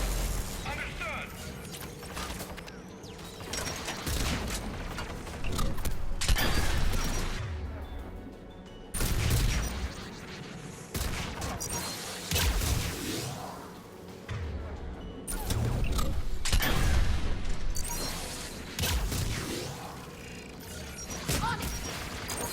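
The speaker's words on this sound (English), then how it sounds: "AA guns ahead of us." Mass Effect 3 anti-aircraft guns fire in loud, repeated bursts of heavy gunfire amid mechanical clanking and battle noise. The volleys swell and fade in waves, and voices speak between them.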